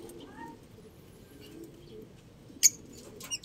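Soft lovebird calls and cooing murmur steadily in the background, with a couple of brief sharp chirps or flutters near the end.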